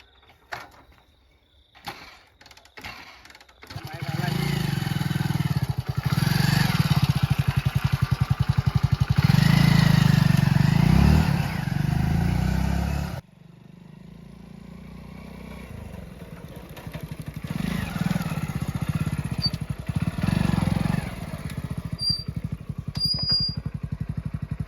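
A motorcycle engine fires up and runs at a steady loud idle for several seconds, cuts off abruptly, then restarts more unevenly with revving, close by, with scattered clatter before it starts.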